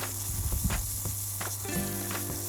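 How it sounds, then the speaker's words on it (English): Crushed garlic and ginger paste sauteing in a hot pan, a steady close sizzle with a few soft stirring scrapes and spoon knocks, no voices. "Now we can saute this for a few minutes till the ginger garlic paste lose its raw fragrance and change color."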